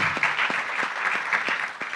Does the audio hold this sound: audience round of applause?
yes